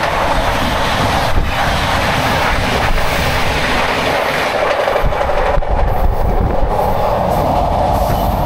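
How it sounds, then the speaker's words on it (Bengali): A train rumbles loudly and continuously at Kharagpur station, a dense steady roar of rolling wagons with brief metallic squeals, close and without talk. "এখান থেকে আমার এখন ট্রেন রয়েছে সাঁতরাগাছি যাওয়ার জন্য।"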